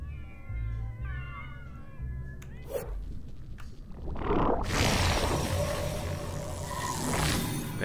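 A cat in South Park: The Fractured But Whole gives several rising, wavering meows up close. A sharp crash and a swoosh follow, then a loud sustained noisy rush.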